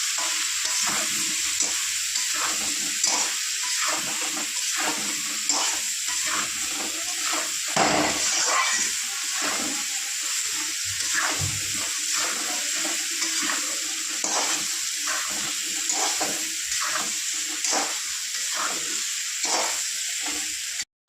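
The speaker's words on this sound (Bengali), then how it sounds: "আলুটা বেগুনটা হালকা করে ভেজে নিই" Potato and eggplant frying in a pan, a continuous bright sizzle broken by frequent scraping stirs, close and moderately loud with no talk.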